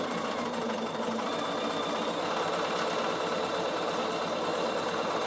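A Bernina sewing machine running steadily while stitching wool applique, a continuous close mechanical whirr with a rapid even needle rhythm, alone without speech.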